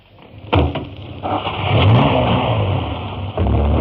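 Car engine starts up and revs as the vehicle drives off in a radio drama sound effect, a sharp clunk followed by a rising, steady motor that holds loud and close, with a second thump near the end.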